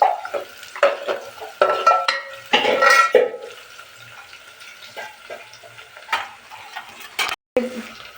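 Onions frying in a pan for egg biryani, a few brief scraping stirs over a soft sizzle, quiet and close with intermittent louder bursts and no talking.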